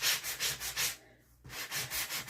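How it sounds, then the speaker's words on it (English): Sandpaper rubs rhythmically against paper edges to distress them, giving a close, steady series of scratchy strokes that stops briefly midway and then resumes. "You can use sandpaper for this"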